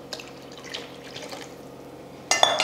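Water is splashed into a simmering curry, a short loud pour arriving at the end after a stretch of quiet, soft kitchen clatter.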